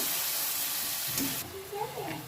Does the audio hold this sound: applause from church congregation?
no